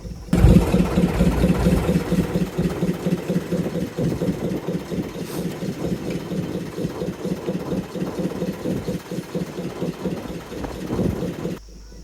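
A fishing trawler engine idles steadily on the Bay of Bengal during a storm, with a low, throbbing chug that holds constant and loud throughout, with no voices.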